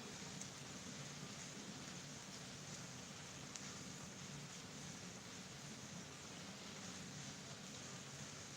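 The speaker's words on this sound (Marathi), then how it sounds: "रात्रीपासून खूप पाऊस आहे" Heavy rain falling in Rajgurunagar, a dense, even hiss of rain that holds steady and fills the whole stretch, with no voices and no breaks.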